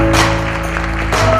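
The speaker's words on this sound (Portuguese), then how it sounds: "Salva de palmas, seja bem-vinda!" An audience at a customer-experience business summit in Brazil claps briefly to welcome a marketing executive to the stage. The applause is short and fairly loud, mixed with steady background music.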